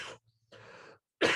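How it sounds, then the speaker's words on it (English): A person coughs in a short, sharp burst, then a muffled voiced sound follows, then a second loud cough. The bursts are close and separated by brief silences. "Sorry, I'm going to cough again."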